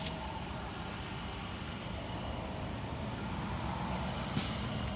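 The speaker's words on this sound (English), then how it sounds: "More truck's coming." Truck rolling by in roadway traffic, a steady broad rumble filling the whole stretch, with a brief sharp hiss near the end like an air brake release.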